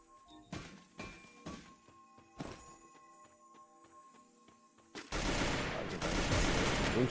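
Sharp gunshots crack in a few separate bursts in a Free Fire match, then a loud, dense stretch of rapid fire and noise takes over near the end.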